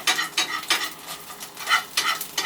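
Jackfruit frying over low to medium heat in a slippery Teflon pan, with close, rhythmic scraping and stirring strokes over a light sizzle and no speech.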